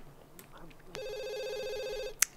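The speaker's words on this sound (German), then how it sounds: "Telefon." A telephone in The Sims 2 rings with one steady, buzzy electronic tone lasting over a second, heard clearly over soft background game sounds and ending in a sharp click.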